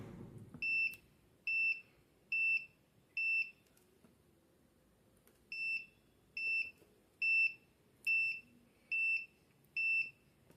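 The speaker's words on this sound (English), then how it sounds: "the LED is blinking as well as the buzzer is buzzing" A door-sensor alarm buzzer, set off by an opened door, sounds in short repeated bursts, about ten evenly spaced beeps, loud and shrill against a quiet room.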